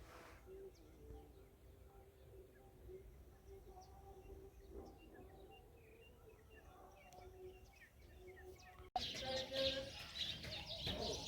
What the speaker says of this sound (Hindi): देखिए चिड़िया आए हैं पूरे रास्ते में।